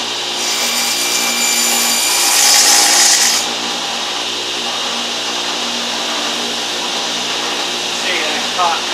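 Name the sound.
power saw cutting wood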